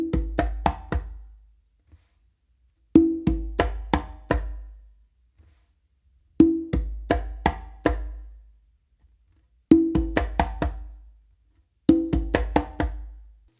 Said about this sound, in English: a palm slap with my non-dominant hand on the conga, and a more aggressive close slap